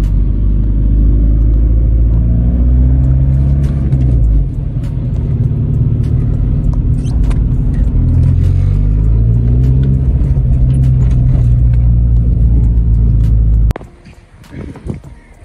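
A Golf's engine rumbles loudly at close range, rising and falling through several revs before cutting off near the end, with faint talking underneath.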